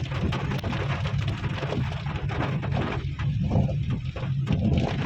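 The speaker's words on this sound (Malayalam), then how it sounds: "നല്ല മഴയാണ് ഇന്ന് രാവിലെ തുടങ്ങിയ മഴയാണ്" Heavy rain pours in a dense, continuous hiss, steady and loud throughout with no pauses.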